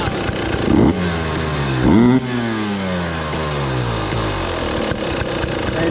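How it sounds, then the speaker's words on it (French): Two-stroke Husqvarna TE 300i 2020 fuel-injected motorcycle engine revving hard while a modified throttle position sensor is tested, with two sharp blips to high revs that fall away into a steady, loud idle, close up and with no talk. "Et là on teste la modif du capteur TPS."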